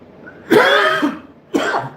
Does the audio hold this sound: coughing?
yes